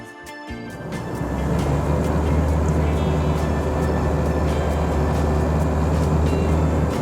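A car pulls away in Dubai. The engine starts from near quiet and swells into a loud, steady close-up drone that holds to the end.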